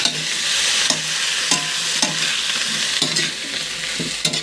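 Onion, garlic and vegetables sauté in a hot pan with a steady broadband sizzle, broken by several sharp scraping stirs of a utensil against the pan, close and fairly loud.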